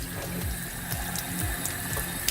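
Water running steadily from a tap or hose while a car brake light is washed during a garage repair, a continuous splashing flow heard alone at moderate level.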